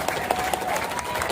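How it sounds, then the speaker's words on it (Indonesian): An audience claps steadily for the rector of Universitas Palangka Raya at the opening ceremony of the national KKN student community-service program in the university stadium, a dense, continuous round of applause with a few louder claps on top. "Beri tepuk tangan yang mulia buat Pak Rektor"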